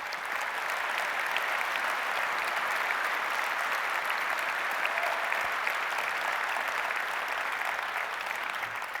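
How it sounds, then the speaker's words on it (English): Audience applause at an EVE Fanfest presentation, a sustained wash of many hands clapping from a large crowd, steady and loud for the full stretch. "I actually want to go and applaud these guys again for coming here and sharing with us."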